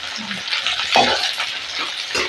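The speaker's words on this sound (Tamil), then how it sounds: "வெங்காயம் நல்லா வதங்கணும்" Small shallots and a dried red chili fry in oil as tamarind curry gets going, giving a close, fairly loud crackling sizzle with a sharp spatter near the middle and some clattering of the pan.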